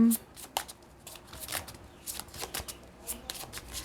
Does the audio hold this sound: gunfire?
no